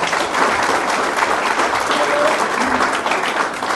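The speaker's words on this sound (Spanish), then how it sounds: "invertamos unos aplausos más para el secretario de la cooperativa" An audience at a cooperative gathering applauds its secretary with steady, dense clapping that stays loud and even throughout, with no pauses.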